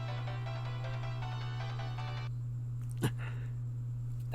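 A phone ringtone from the Steins;Gate 0 video game plays as a steady melodic electronic tone that cuts off partway through, leaving a low hum and a single sharp click afterward.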